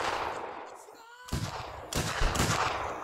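Massed musket volleys from a company of troops in Mount & Blade Warband, with several loud ragged bursts of gunfire in quick succession after a brief lull and a rolling crackle between them.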